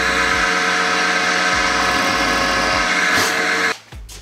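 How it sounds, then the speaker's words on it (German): A drill bores a 5 mm hole through wood on a homemade drill stand, a loud steady whine running for several seconds before cutting off abruptly near the end. "Dann Loch bohren, 5 mm in meinem Fall."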